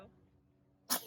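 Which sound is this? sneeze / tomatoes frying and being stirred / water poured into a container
sneeze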